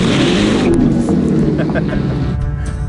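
Dodge Charger EV launching in drag mode at a drag strip near Bakersfield, California, a loud dense rush of motor and tire noise lasting a few seconds, with voices over it.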